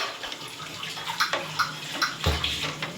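Water is poured into a pot of fish tamarind curry, a steady faint splashing and pouring with a few soft clinks and gurgles over a quiet kitchen background.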